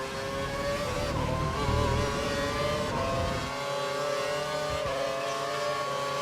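An F1 car at Silverstone in the F1 2012 racing game, its engine note loud and sustained as it passes another car on the straight, with a second engine swelling in and out nearby.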